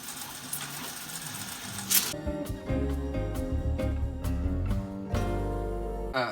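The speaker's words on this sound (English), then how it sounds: "We have something called library wind on this machine, where we hold shift and we push forward wind. So like sort of half speed rewind." A Studer A827 tape machine in library wind mode, running a steady half-speed rewind with a continuous whirring transport sound and dense tonal content throughout, with no talking.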